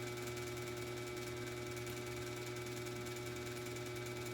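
A mini four-stroke engine runs at a constant faint hum with a steady buzzing drone and no change in pitch.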